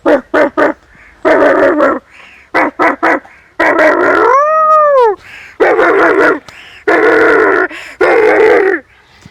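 A voice imitates a neighbourhood dog, barking in loud close bursts broken by short pauses, with a rising and falling howl partway through.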